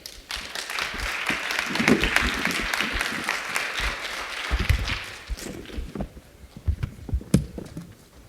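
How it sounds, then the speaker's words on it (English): Audience applause at a community forum after an interactive activity, loud and dense for several seconds, then thinning into scattered claps and a few taps as it dies away. "Can we give them one more round of applause?"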